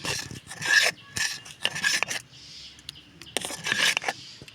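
A rice flour batter for papad is stirred in a pan, the utensil scraping and rasping against the bottom in repeated strokes, close and fairly loud, with short pauses between bursts.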